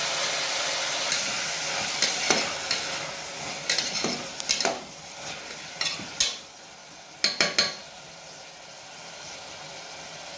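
Carrots, beans and potatoes sizzle in a pan for bisibele bath, a constant frying hiss broken by scattered spatula scrapes and clinks against the metal.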